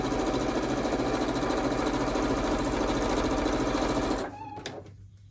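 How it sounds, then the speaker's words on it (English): A sewing machine runs steadily at close range for about four seconds, stitching a quarter-inch seam on a quilt block, then stops abruptly and a few faint clicks follow. "sew a 1/4 inch seam"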